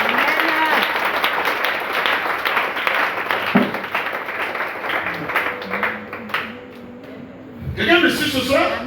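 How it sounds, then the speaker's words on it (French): A church congregation applauding and clapping through a sermon, a sustained dense patter with voices mixed in throughout, easing mid-way and swelling again near the end. "Acclamez le Seigneur."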